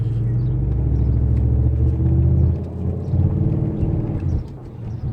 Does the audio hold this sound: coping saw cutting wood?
no